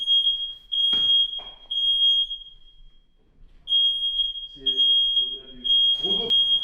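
A smoke alarm in a home kitchen during a dinner shrills in steady high-pitched pulses, close and loud, cutting out briefly before resuming, while people talk and exclaim over it.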